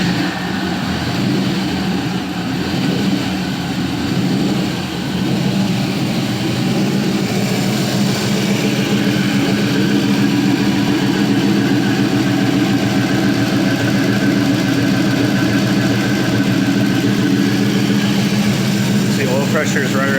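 A 4.8L LS V8 engine runs steadily at idle, a loud continuous rumble with a smooth low drone throughout, and a person talks over it.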